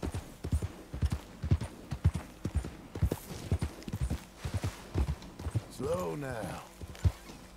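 Horse hooves clip-clop in a steady walking rhythm in the Red Dead Redemption 2 game, close and clear, with a horse whinny near the end and someone talking over it.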